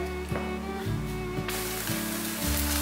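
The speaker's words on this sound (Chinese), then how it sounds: "像这样子铺平，让它煎。" Food spread flat in a pan begins frying. A quiet hum and soft low knocks give way midway to a steady, bright sizzle that holds to the end.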